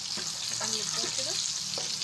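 Pasta in hot sauce sizzling in a pan as it is stirred, a soft close crackle with brief scraping stir sounds, quiet and without talk.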